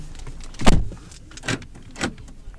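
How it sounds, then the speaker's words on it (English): Power door locks on a 2010 Dodge Avenger SXT: three close mechanical clunks, one strong thump followed by two lighter ones about half a second apart, with no talking. "Power locks."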